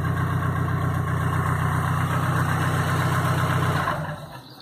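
A Chevrolet Caravan engine idles slightly out of tune on a radiator test, a steady close low rumble with an uneven pulsing beat and a faint high whine, fading down in level near the end, with no talk.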